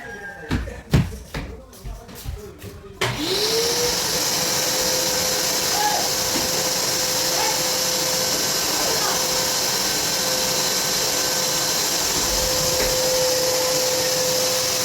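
A vacuum cleaner switches on about three seconds in and runs steadily and loudly to the end, its constant whine filling the room during house cleaning before floor waxing. Brief knocks and shuffling come before it starts.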